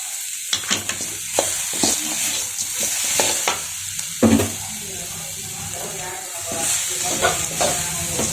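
Oil sizzles steadily as curry leaves fry in a pan, with scattered crackles and a few utensil scrapes and stirring clatters.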